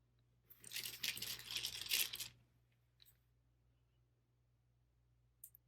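Scrabble tiles drawn and handled: a brief clattering rustle for nearly two seconds, then quiet with a couple of faint clicks.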